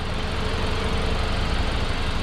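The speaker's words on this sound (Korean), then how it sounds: "엔진 소음 자체도 너무 좋고요" Used car's engine idling with the engine bay open, a steady, smooth low hum heard close up with no talk.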